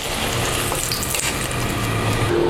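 Sliced eggplant frying in hot oil, a steady close sizzle and crackle running throughout with a few faint clinks, no speech.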